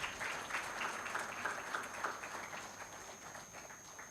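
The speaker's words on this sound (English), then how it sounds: "A huge round of applause for all the dignitaries present on the dais." Audience applause for dignitaries seated on the dais at a memorial oration in an auditorium, a steady wash of clapping across the full length, fairly distant and even, with a faint constant high tone underneath.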